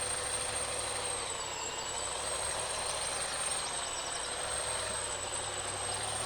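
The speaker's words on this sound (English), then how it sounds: "This turbo whine's kind of loud" Truck engine in Farming Simulator 19, heard as a steady, loud turbo whine holding a high pitch over a continuous engine drone with no breaks, while a log-hauling rig works at Bear Rock Logging.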